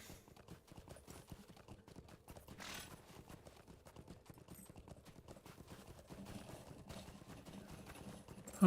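A pony's hooves clip-clop steadily in a fantasy role-playing game, a quick, even rhythm of light hoof strikes running throughout at modest volume, with brief interface-like noises now and then.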